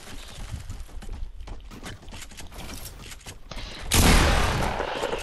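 Gunfire from the Fortnite video game, a rapid clattering burst of shots followed by a louder, sustained blast of noise near the end, with no speech.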